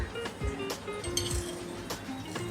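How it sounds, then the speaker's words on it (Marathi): A large metal kadhai lifted and handled while roasting spiced cashews, giving a few bright, close metallic clinks and knocks in quick succession. "आपण काय करूया सगळ्यांना, जराशी मोठी कढई घेऊया."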